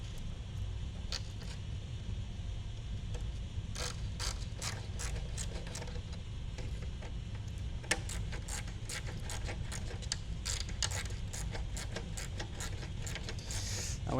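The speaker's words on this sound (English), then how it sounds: "Let's tighten them up." T25 Torx screws being tightened on a Lamborghini Huracan, with quiet, rapid ratcheting clicks coming in bursts against a low background hum.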